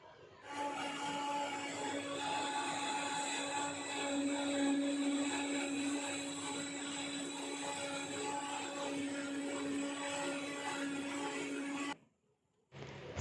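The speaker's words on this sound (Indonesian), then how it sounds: "Jadi 2 kali blender, masing-masing kita gunakan setengah dari airnya. Blender sampai halus," A kitchen blender grinds soaked soybeans with water for homemade tofu, a steady, loud motor whir held at an even pitch for about eleven seconds before cutting off abruptly.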